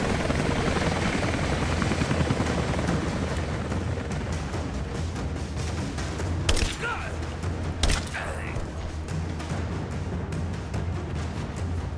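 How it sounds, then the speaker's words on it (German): A helicopter in the video game Rise of the Tomb Raider, its loud continuous rotor thrum filling the scene with two sharp impacts partway through. "Oh, oh, der Hubschrauber."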